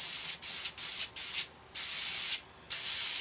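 Short bursts of fine airbrush spray with thinned paint on a 1/48 scale model aircraft, hissing on and off in quick pulses with brief gaps, then two longer sprays; close and steady.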